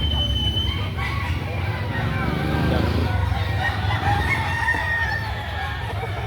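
A rooster crows loudly nearby with other chickens clucking, over steady background noise and some talking.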